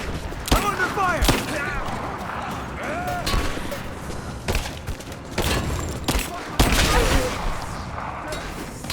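Bursts of gunfire aimed at Lara Croft in Rise of the Tomb Raider, sharp shots cracking out repeatedly at irregular intervals over a dense battle backdrop, with shouting voices mixed in.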